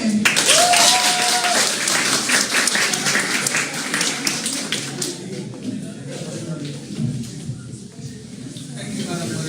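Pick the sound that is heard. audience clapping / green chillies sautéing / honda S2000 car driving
audience clapping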